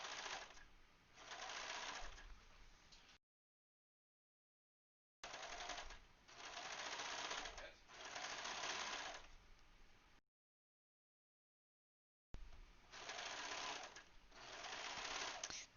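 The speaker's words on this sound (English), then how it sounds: "The brilliance of an overlock machine is that it trims off that end at the same time." Overlock machine sewing and trimming dress fabric for a Lolita jumper skirt, running in three long, close bursts of fast rattling stitching separated by short silent gaps.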